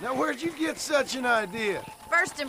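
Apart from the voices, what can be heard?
No everyday noises stand out.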